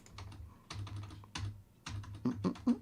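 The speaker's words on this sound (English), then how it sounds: "Just typing over here to keep an eye on chat." Clicky keystrokes from a computer keyboard come in quick bursts separated by short pauses, close and fairly quiet, with no speech over them.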